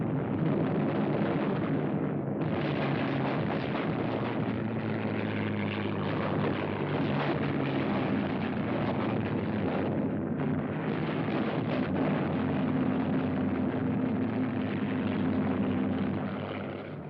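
WWII bombers, fighters and tank-busting aircraft attack in the Tunisian desert in 1944, a dense, continuous roar of engines holding loud and steady throughout with a rumbling low end and no speech.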